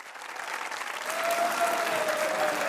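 A studio audience at a Pakistani comedy talk show claps together in dense, continuous applause that builds slightly louder and holds steady for a few seconds, with no voices over it.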